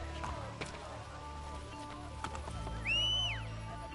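Horse hooves clip-clop in Assassin's Creed Brotherhood, with a whistle-like neigh rising near the end over steady game ambience and a voice.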